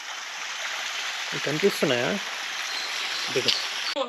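Steady rushing water from the stream at Muthyala Maduvu waterfalls near Bangalore fills the background throughout, a constant broadband wash, with a person briefly speaking over it midway and near the end.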